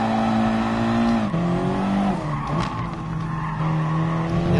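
A race car's tires squeal and skid in GT Sport racing after a braking mistake, a loud sustained screech with shifting pitch over the steady engine drone, and no talk.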